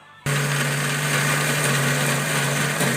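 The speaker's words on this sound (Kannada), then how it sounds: "ಬನ್ನಿ ಇವಾಗ ಗ್ರೈಂಡ್ ಮಾಡ್ಕೊಂಬರೋಣ." A mixer grinder blends cooked tomato, dal and greens in a jar, starting abruptly as a loud, steady motor whir with a constant low hum that runs without a break.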